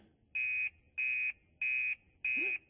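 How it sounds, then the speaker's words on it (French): A cartoon fire station alarm buzzer sounds in four evenly spaced, steady electronic blasts, loud and shrill with short gaps between, and a faint vocal sound at the end. "L'alarme!"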